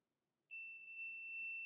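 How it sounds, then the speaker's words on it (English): A Craft Express Elite tumbler press signals its countdown with one steady high electronic beep that starts sharply and holds for over a second, fairly quiet and alone with no voices. "When the countdown reaches 0, you will hear a beep."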